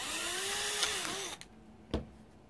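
A power drill bores holes in a 3D printed snow blower mount, a whining motor that runs steadily, winds down and stops, followed by a short sharp knock.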